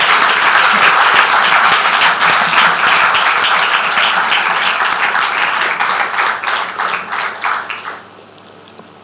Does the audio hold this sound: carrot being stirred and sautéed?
no